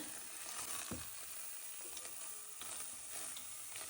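Mashed sweet potato sautés in ghee for a sweet potato shira, a soft, steady sizzle with one dull knock and faint stirring scrapes, fairly quiet and close, no voices.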